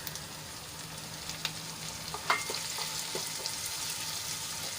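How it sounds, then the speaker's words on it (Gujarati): Chopped tomato and onion sautéing in a pan, a steady soft sizzle and crackle with a few small pops and stirring scrapes, close and moderately quiet, with no talking. "અને ટમાટું આપણું સોફ્ટ થાય ત્યાં સુધી એને સાંતળી લઈશું"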